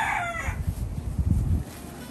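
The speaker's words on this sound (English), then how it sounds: "the chickens are stealing the blueberries!" A rooster crows briefly at the start, followed by low scratchy clucking and shuffling of chickens close by.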